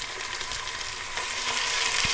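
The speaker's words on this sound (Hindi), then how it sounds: "अब टमाटरों को थोड़ा नरम होने तक पकाएंगे" Chopped tomato cooking in a pan with light-browned onions, a steady close sizzle and hiss of frying with faint stirring scrapes, no voices.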